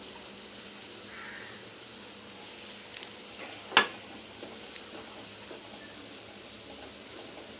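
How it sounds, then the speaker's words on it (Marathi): Onions, ginger and garlic frying in a pan for village-style egg masala, a soft steady sizzle heard fairly close, broken by one sharp clink of a utensil near the middle. "कांदे चांगले आपण फ्राय करून घेऊया, मीठ, यात आता हे अद्रक लसूण टाकते"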